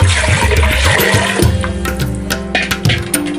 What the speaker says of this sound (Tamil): தண்ணி கொஞ்சம் நிறைய அளவுக்கு விட்டுடலாம்.